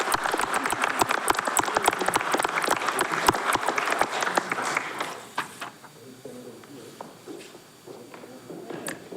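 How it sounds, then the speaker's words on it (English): A town council meeting audience gives a round of applause, brisk crowded clapping for several seconds that thins out and fades, followed by quieter room murmur and voices. "So if you all folks would welcome me with a clap for Mr. Larp."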